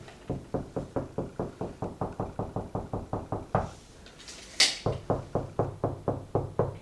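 Knuckles knock on a hollow drywall section between wall studs in a steady, rapid series of dull taps, pausing briefly halfway before resuming, close and alone.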